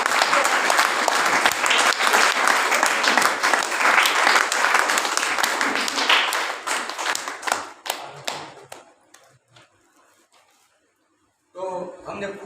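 An audience claps loudly to welcome a guest at a Hindi-language gathering, the dense applause holding steady before thinning into scattered claps and fading to near silence, then a voice resumes briefly at the end.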